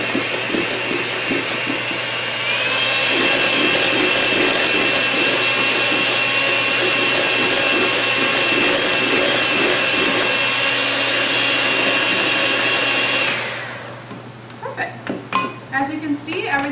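An electric mixer whirs steadily through whole wheat blueberry muffin batter in a bowl, a loud continuous drone, then stops and gives way to clinks of utensils against the dish.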